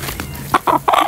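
A rooster clucking up close, three short loud bursts of clucks in quick succession over faint background noise.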